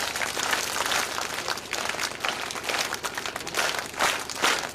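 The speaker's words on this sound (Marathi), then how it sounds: "3 टाळ्या वाजवा एकदा" Schoolchildren in a group clap together during a talk on saint literature, a dense, fairly loud wash of hand claps that swells in a few bursts without a clear single beat.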